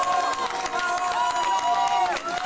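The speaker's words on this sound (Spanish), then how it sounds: "merece un gran aplauso." A crowd at a political party's victory speech cheers and applauds, a dense roar of many voices and clapping, fairly loud and continuous.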